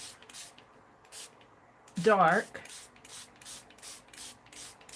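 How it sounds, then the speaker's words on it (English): Walnut ink is sprayed from a spray bottle in a series of short, soft hissing bursts at a steady rhythm, close and quiet, with a brief spoken word partway through. "This is walnut ink in this spray bottle."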